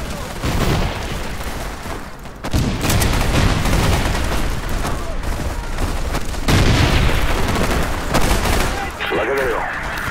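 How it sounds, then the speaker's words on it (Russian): Dense, loud gunfire crackles almost without pause through a Battlefield 2142 firefight, with heavy booms of a grenade blast and explosions breaking in, all close and continuous. "Кидаю гранату."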